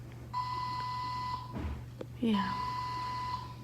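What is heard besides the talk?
beeping in a hospital room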